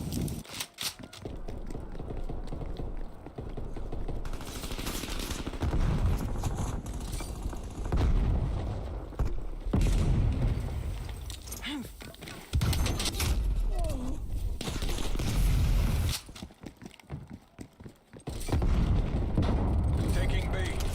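In a video game, a frag grenade and gunfire produce heavy rolling blasts and repeated bursts of shots that fill the whole stretch, while a voice calls out over the din.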